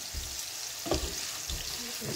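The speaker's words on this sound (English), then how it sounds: "when the red peppers, the onions, and the green peppers sweat out a little bit" Red and green peppers and onions sizzle in a frying pan, seasoned with a little adobo. A steady crackling hiss runs throughout, with occasional stirring scrapes, close and moderately loud.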